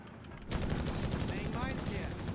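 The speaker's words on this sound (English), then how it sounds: "Rascal being met with heavy flak fire" Heavy anti-aircraft flak fire in Company of Heroes 3, a dense continuous barrage of gunfire bursts that erupts suddenly and rolls on loudly, with faint whistling tones sweeping through the middle.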